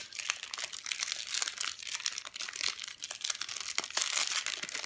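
Foil Match Attax football card packets from a 2017/18 Advent Calendar being torn open, giving continuous close crinkling, crumpling and tearing with sharp rustling bursts and no talk.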